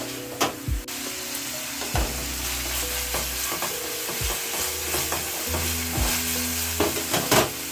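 Garlic frying and sizzling in a pan for a coconut chicken curry, with a steady hiss under repeated scrapes and knocks of a stirring utensil, close and moderately loud throughout.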